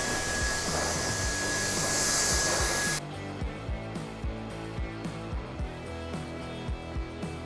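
A handheld hair dryer blows on the cool setting while a short combover is styled, giving a loud, steady airflow rush for about three seconds before it stops. A regular thumping rhythm follows, probably background music.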